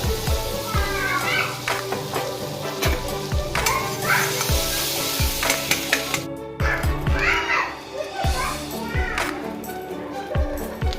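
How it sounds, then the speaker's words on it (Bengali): Butter and a little oil heat in a kadai on the stove, giving a continuous gentle sizzle and stirring clatter, with children's voices and other talk in the background. "আবার কড়াই চাপিয়ে দিলাম, আবার সামান্য একটু বাটার দিয়ে দিলাম, সামান্য একটু তেল দিলাম"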